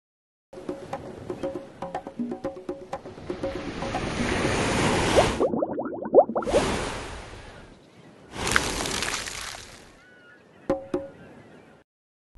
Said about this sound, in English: A wave is when the top of the water moves.